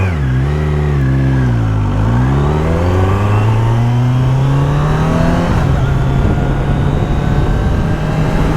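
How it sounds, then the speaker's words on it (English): A 2023 Kawasaki Z900 motorcycle engine revs hard up through the gears, with throttle blips shifting without the clutch. The pitch climbs and drops in quick steps, then holds a steady, loud, close drone. "I have to just blip the throttle and it switches gears like that"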